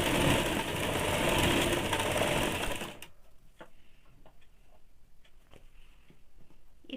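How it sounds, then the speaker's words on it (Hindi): A sewing machine runs in a steady, loud whir while stitching the sleeve of a woolen baby frock, then stops abruptly after about three seconds, leaving quiet handling clicks. "अब इसका नीचे में भी एक सिलाई डाल देंगे बाँह में।"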